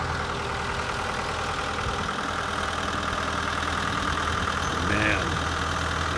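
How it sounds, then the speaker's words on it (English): A 1968 Ford 5000 tractor engine idles steadily outdoors, a continuous low rumbling drone with even loudness throughout. "the 68 Ford 5000 tractor"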